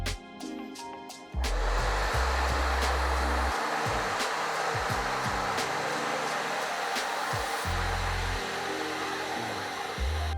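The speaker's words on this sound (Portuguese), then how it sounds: "Quando eu for retirar, eu desligo o secador e retiro." A hair dryer fitted with a diffuser switches on and blows with a loud, steady rushing roar close up, with occasional soft handling clicks and no talking.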